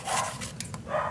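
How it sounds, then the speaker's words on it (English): Dogs barking in short bursts, a few sharp barks with a yip among them, heard at moderate distance against a quiet indoor background with no talking. "Why are the dogs barking?"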